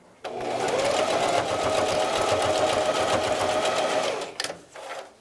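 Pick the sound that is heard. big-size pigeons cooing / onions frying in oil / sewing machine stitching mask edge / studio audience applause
sewing machine stitching mask edge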